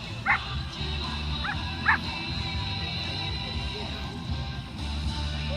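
Dogs at a dog show in a large hall, a few short yips and barks rising now and then above the steady murmur of the crowd.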